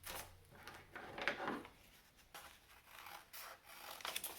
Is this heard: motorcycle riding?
no